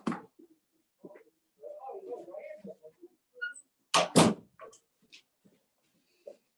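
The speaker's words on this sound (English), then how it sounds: "I'm going to shut my door." Door shut during a school board committee meeting: a pair of sharp, close thumps in quick succession, set among a person's quiet speech and small handling noises.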